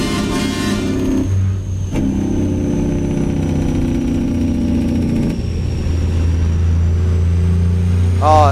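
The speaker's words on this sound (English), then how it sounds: "Oh, engine brake." A truck engine brake in a truck driving game with an owner-operator profile, sounding as a loud steady low engine drone with a change in pitch partway through, heard close and without talking.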